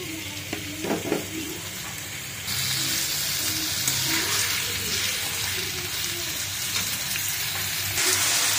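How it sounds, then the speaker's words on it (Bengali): Potatoes deep-frying in oil for biryani give a steady, close sizzling hiss that grows slightly louder partway through, with a few faint clinks near the start and no voices. "প্রথমে আমি বিরিয়ানির জন্য কিছু আলু ভেজে"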